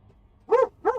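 A pet dog named Millie barks twice, close by, two sharp separate barks about a third of a second apart, set against a quiet room.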